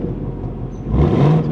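A 2024 Ford Mustang Dark Horse with a 500 hp Coyote V8 idles with its valved exhaust in quiet mode, a muted low rumble that swells slightly in a short rev, close by and with no voices.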